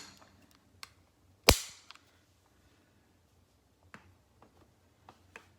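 A Walther PPQ Q4 Tactical pistol fires one sharp shot at a shooting range, a single loud crack followed by quiet with faint scattered clicks and distant pops.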